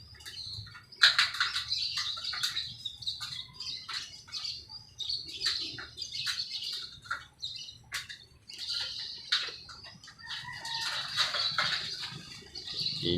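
Small birds chirp and tweet around village rooftops in Gumaca, Quezon, with quick bursts of calls, occasional squawks and some wing flapping, fairly close and with no talking.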